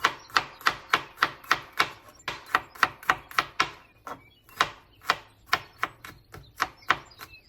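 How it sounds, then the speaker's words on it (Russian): Close, crisp knife strikes on a cutting board as garlic cloves are finely chopped, a rapid steady run of sharp chops with one short pause midway. "3 зубочка чеснока тоже нарезаем меленько"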